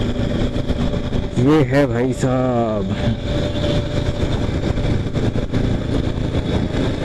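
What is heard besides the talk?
Bajaj Platina H-Gear motorcycle engine running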